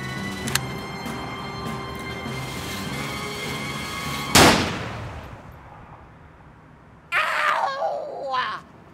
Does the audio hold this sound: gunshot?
yes